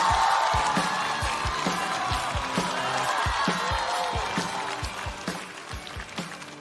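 Applause and cheering from a studio audience at a Chinese stand-up comedy show as a former-HR comedian is welcomed to the stage; dense, steady clapping fills the whole stretch and slowly eases toward the end.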